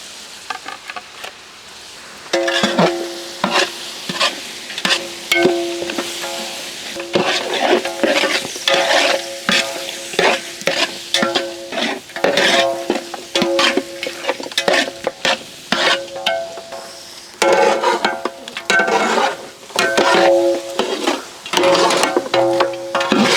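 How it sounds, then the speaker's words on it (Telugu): Mutton frying in hot oil in a pan, with a steady sizzle broken by repeated scraping strokes of a spoon or spatula as it is stirred, close and fairly loud throughout. "మటన్ నూనెలో కొంచెం కలర్ మారేంతవరకు వేయించాక"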